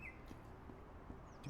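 Birdsong in the game Lawn Mowing Simulator, a few faint, brief chirps and whistles at the start and end against a quiet background hum.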